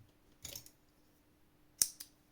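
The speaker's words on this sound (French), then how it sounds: "On coupe les fils." Two quick snips of scissors cutting crochet yarn, close and crisp in a quiet room, spaced a little over a second apart with a faint follow-up click after the second.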